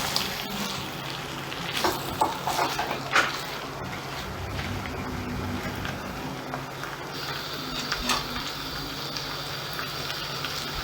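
Cauliflower frying in a non-stick kadhai, a soft continuous sizzle and bubbling with occasional stirring clatter, steady and moderately quiet throughout.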